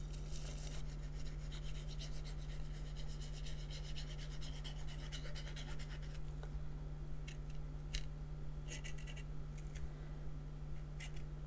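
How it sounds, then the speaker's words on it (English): Burnishing a crease into folded paper card, a dry rasping rub with brisk repeated strokes, close up and fairly quiet, alone over a steady low hum. "Pinch your peg, put that on there, give that a good burnish"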